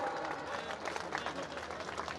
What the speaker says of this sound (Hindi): तालियां तालियां बजाए भाई लोग